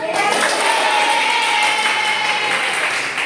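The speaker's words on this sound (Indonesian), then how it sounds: "Tepuk tangan." Steady applause from an audience at a BKP competition event, a dense continuous patter of clapping held at even loudness throughout.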